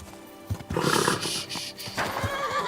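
A horse whinnies loudly and close in Kingdom Come: Deliverance II, a long shaky neigh over steady background rumble and scattered hoof-like thuds.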